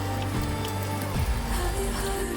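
Rain pours down steadily at an outdoor gathering at Bhangor Mahavidyalaya, a dense continuous patter on surfaces with a low hum and indistinct background noise beneath it.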